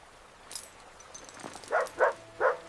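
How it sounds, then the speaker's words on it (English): A puppy lets out three short, high whimpers in quick succession, fairly close, after a faint rustle. "That sounded like a puppy."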